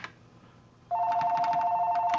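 A telephone rings with a steady electronic two-tone warble that begins partway through after faint room noise, fairly quiet and continuous, with no talking.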